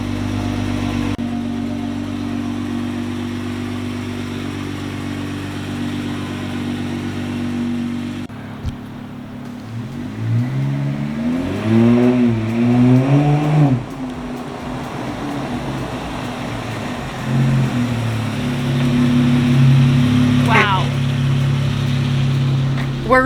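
Jeep Wrangler engine idling, then revving with rising and falling pitch sweeps before settling into a steady loud drone, heard from inside the vehicle.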